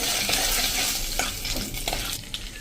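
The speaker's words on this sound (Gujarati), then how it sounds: "તો આ રીતે આપણે એને તેલમાં એકદમ સરસ રોસ્ટ કરી લેશું" Roughly a tablespoon of peanuts roasts in hot oil with a loud, dense crackling sizzle that runs steadily from start to finish, with a few brighter pops and faint stirring clinks.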